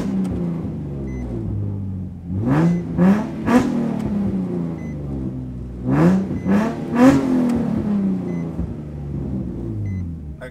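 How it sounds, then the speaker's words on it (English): Car engine revving to about 4000 RPM: two pairs of rising revs climb sharply and then fall back to a rumbling idle, loud and close, with no voices. "But you gotta rev the car to 4 RPM"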